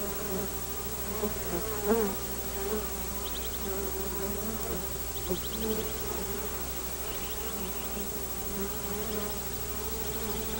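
Male bees or wasps buzz around orchid flowers outdoors, a steady faint insect drone with a few brief louder passes close by against constant background hiss.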